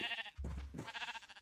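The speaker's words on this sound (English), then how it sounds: "we don't really need these sheep anymore." Sheep bleating in a modded Minecraft world (All the Mods Spellbound pack): a few wavering, nasal bleats in quick succession, fairly close and alone without any talk.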